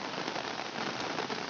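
Light evening rain falling over a backyard garden, a steady soft patter of drops across the whole short stretch with no voices.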